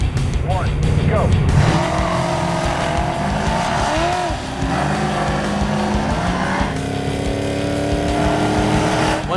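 Project cars in a drag race on a turned-around course: engines roar and rev loudly at close range with tire squeal and shifting pitch, while people talk over the noise.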